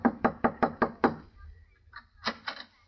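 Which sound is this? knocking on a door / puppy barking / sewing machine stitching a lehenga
knocking on a door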